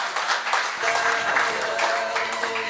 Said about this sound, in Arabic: عطنا تصفيق عليه الله يعطيك الصحة